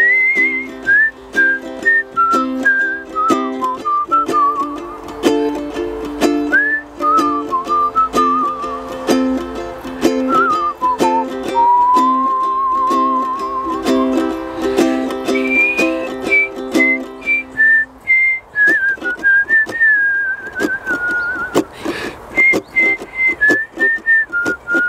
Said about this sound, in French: Je vais juste siffler et c'est vous qui jouez le ukulélé.